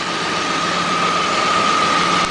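A Geo Metro engine idles on hydrogen in a steady, continuous drone with a constant high whine over it, close and alone.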